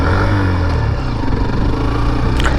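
A Hero Xtreme 125 motorcycle riding along, its steady mid-pitched engine drone loud and close, mixed with road and wind rumble and no talking.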